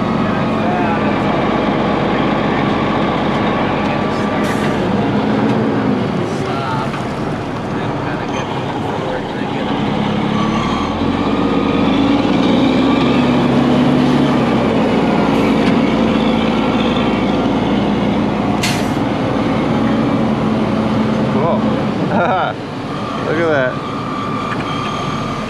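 A loaded Freightliner FLD120 semi's engine drones steadily as its hydraulic pump engages to raise the dump tub, the engine bogging slightly under load; people talk over the running engine throughout.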